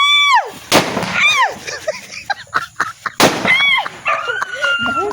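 A dog barks and yelps repeatedly amid booming New Year fireworks, with loud bursts, crackles and whistling rockets nearby; people talk in the background between blasts.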